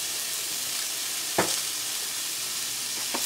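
White wine poured into a hot pan while making Bercy sauce, giving a steady bright sizzle that fills the whole stretch, with a couple of faint clicks of utensils against the pan.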